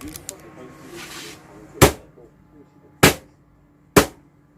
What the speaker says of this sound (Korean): 이 상태에서 본체를 한번 때려볼게요